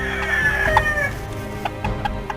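Roosters at a cockfight in a Bastar village market, with clucks and a brief crowing call over a loud, busy crowd murmur.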